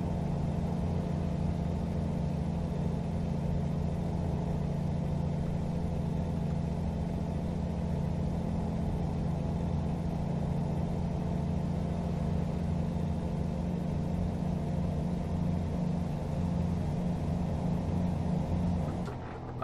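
A heavy truck engine in American Truck Simulator drones steadily at low pitch while driving down a road, with a constant rumble and hum that holds level from start to finish and no voices.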